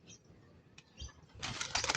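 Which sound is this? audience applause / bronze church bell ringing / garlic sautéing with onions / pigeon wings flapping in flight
pigeon wings flapping in flight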